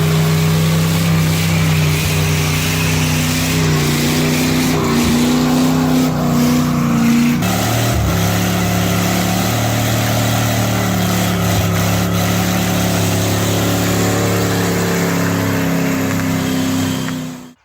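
An old, rusty pickup truck does a massive burnout, its engine roaring loud and close at high revs for the whole stretch, with pitch climbing and dipping as the throttle rises and falls.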